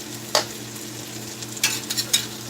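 Beef sizzles and spits in a hot stir-fry pan, with a few sharp scraping stirs cutting through the steady frying hiss.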